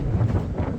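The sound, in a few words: strong wind blowing a tarp around while camping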